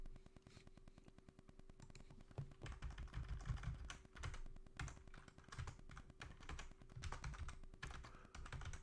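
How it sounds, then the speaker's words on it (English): Fingers type quickly on a computer keyboard, dense irregular clatter of key taps in bursts over a low steady hum, fairly quiet and without talk. "Using my home row keys today is not working out for me."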